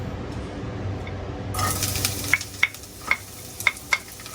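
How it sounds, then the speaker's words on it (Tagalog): Milkfish (bangus) sautéing in a pan for sinarsiyang daing: a steady sizzle swells partway through, then a series of sharp metallic ladle knocks and clinks against the pan over the hiss. "Gisa tayo, gisa ng bangus."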